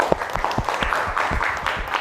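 Short burst of classroom applause from students during a sociology lesson, scattered claps close and fairly loud, lasting about two seconds.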